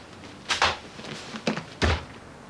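An indoor door is handled with a couple of knocking clicks, then swung shut with a solid thud, each sound close and distinct against a quiet room.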